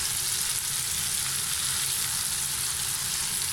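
King fish fillets frying in hot oil in a pan make a dense, continuous sizzle that stays loud and even throughout, close up, with no voices.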